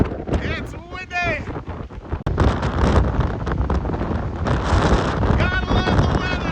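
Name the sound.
strong gusting wind on a sea cliff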